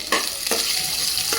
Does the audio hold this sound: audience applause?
no